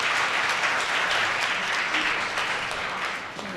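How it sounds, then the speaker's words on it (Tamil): Sustained audience applause fills a hall at a Tamil New Year debate event, steady and dense for a few seconds before tapering slightly at the end, with no voices over it. "ஒரு கைத்தட்டல் நம்ம கொடுக்கலாம்"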